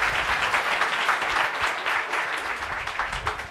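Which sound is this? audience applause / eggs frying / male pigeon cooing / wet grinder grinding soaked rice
audience applause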